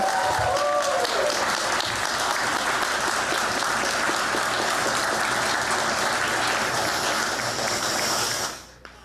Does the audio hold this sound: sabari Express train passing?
no